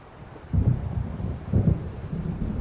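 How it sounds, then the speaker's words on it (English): Deep rumbling thunder from an approaching storm in Alan Wake Remastered rolls in low, heavy swells, two stronger surges rising over a constant dull roar, with no voices. "It seems there's a storm coming."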